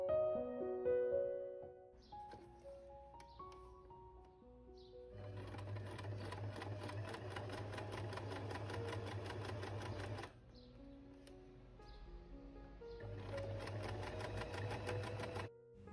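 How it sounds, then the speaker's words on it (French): A sewing machine runs a straight seam along a shirt in two long, steady bursts of rapid mechanical stitching, separated by a short pause, with soft melodic music playing underneath. "on viendra ensuite suivre toutes nos épingles avec une couture droite"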